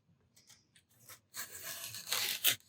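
A pocket knife slicing and tearing into an old wood board, sparse faint scrapes at first, then a louder rough ripping run of cuts near the end, close by and without speech.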